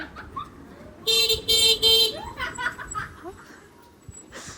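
A vehicle horn honks in street traffic, two or three loud close toots in quick succession, followed by other traffic noise and laughter.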